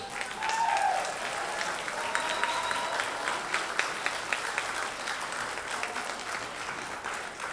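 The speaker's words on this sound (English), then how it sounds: "Let's give them another round of applause, please." Audience gives another round of applause at a longhouse 20th-anniversary gathering, a steady moderately distant wash of clapping with a brief whistle-like tone early on, sustained evenly for several seconds.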